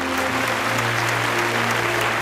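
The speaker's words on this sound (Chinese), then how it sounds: "接下来让我们掌声欢迎燕燕" A television studio audience claps to welcome a woman onto a reunion show, a brief burst of dense, even applause over a sustained musical chord, loud and close.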